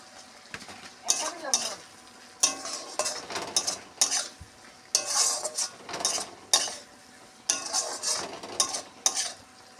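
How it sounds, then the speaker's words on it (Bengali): Pointed gourd (potol) frying in oil in a pan, a light sizzle broken by frequent bursts of scraping and clattering as a utensil stirs against the metal, close and lively. "এখন আমি পটলগুলো দিয়ে দেবো"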